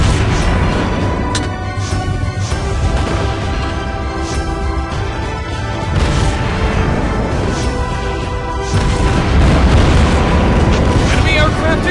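Naval gunfire and shell explosions in World of Warships Blitz, a French Flandre ship in battle, form a dense, continuous roar of booms and blasts, loud and unbroken throughout.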